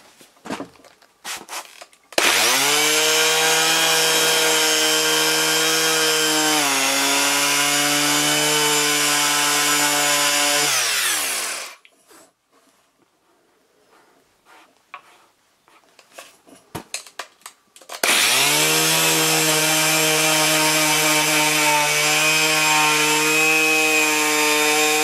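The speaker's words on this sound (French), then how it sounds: "Là il y a une petite épaisseur légèrement, je vais essayer de la limer." Filing down a slight raised thickness on a 2004 Toyota Avensis sun visor, heard as a loud, steady rasping tone that runs for about nine seconds, stops briefly, then resumes just as strongly.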